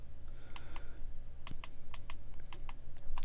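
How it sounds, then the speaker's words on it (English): Fire button on a Hugsvape Surge squonk vape kit being pressed repeatedly, a series of small, sharp plastic clicks in an irregular rhythm, close and fairly quiet. "clicking the fire button takes you down the menu"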